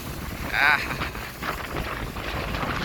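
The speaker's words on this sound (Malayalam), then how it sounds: "അറുപത് സ്പീഡിൻ്റെ കാറ്റാണ് ഇപ്പോൾ വീശുന്നുള്ളത്" Strong monsoon wind at the Kizhur breakwater roars and buffets the microphone continuously, with a brief louder gust near the start.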